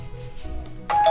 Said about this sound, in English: I think someone just rang the bell